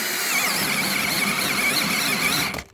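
A drill driving a 32 bit into knotty wood, a loud steady whining squeal under strain that holds for over two seconds before cutting off abruptly.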